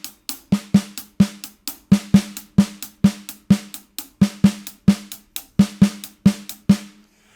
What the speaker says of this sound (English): So the pattern, and I'm going to put my right hand on the hi-hat. The pattern will sound like this.